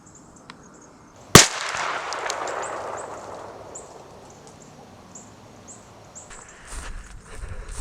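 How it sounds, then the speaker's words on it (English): Single loud shotgun blast fired through a Muller UFO choke tube at 40 yards outdoors, a sharp crack followed by a long fading rumble, with faint birdsong in the background. "I haven't shot this tube, so hopefully we don't destroy the camera."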